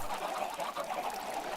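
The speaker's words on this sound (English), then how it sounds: "It is difficult to hear myself think with all of those chickens." Chickens in the video game Minecraft cluck continuously as a dense, overlapping chorus, moderately loud and close, with no talking.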